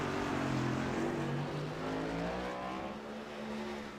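Race cars roaring past on the Chicago street circuit, engine notes sweeping and shifting pitch as several cars pass in succession, a continuous loud drone without any talk.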